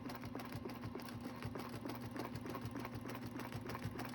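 A sewing machine runs steadily while stitching a decorative border, a faint even mechanical whir with quick regular needle clicks and no talking.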